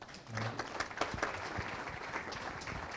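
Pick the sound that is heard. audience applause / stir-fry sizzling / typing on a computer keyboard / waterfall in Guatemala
audience applause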